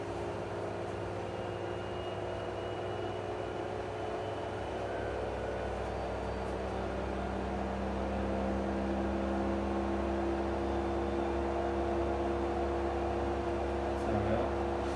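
The drum of an LG 6Motion washing machine spins in service mode with a steady motor whine and low rumble. Tonal bands shift as the speed changes, and the sound stays close and continuous with no voices.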